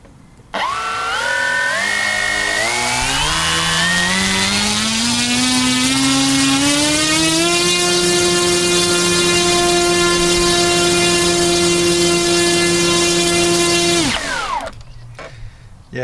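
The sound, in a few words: Robbe Air Trainer 140 model plane motor run up on 4s power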